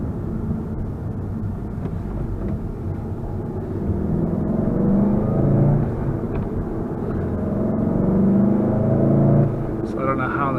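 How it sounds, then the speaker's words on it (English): Volkswagen Golf R engine note heard from inside while driving in the individual drive mode, a steady low drone with rising pulls around the middle and near the end, close and fairly loud, with some speech-like tones mixed in. "a little bit more aggressive engine note in the individual setting"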